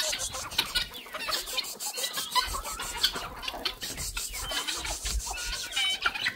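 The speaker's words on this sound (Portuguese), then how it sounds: "Só que agora tá uma bagunça de galinha aqui." Chickens and guinea fowl fill a farm coop with busy, overlapping clucks and squawks, a dense continuous chatter heard close up, with rustling and no talk.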